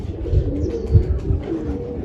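Pigeons at a backyard loft coo in low, rolling, overlapping calls that pulse steadily throughout, fairly close and moderately loud, with no talking.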